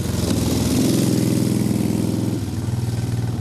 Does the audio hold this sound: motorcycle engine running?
yes